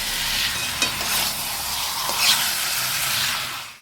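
Onions sizzle steadily in hot oil in a pan while being stirred for a chicken curry, with a bright continuous hiss and a couple of soft scraping knocks from the spoon.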